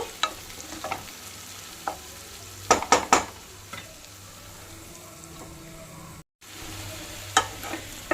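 Drumstick pieces and tomato go into onions frying in a pan for an egg munakkaya curry, giving a steady sizzle. Stirring scrapes and a few clinks sound over it, with a brief silent gap near the end.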